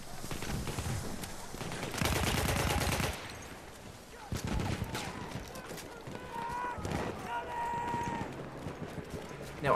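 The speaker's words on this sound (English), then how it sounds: "Now, I heard gunfire down here" Gunfire in Battlefield 1 on PlayStation 4 Pro, with bursts of rapid shots mixed into a busy battlefield soundscape, including one loud dense stretch, while players talk over it.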